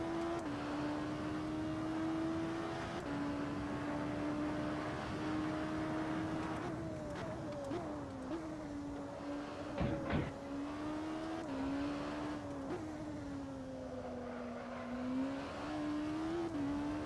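A race car in Assetto Corsa community racing holds a steady engine drone throughout, with the pitch rising and falling through gear changes and corners, plus a brief thump or scrape partway through.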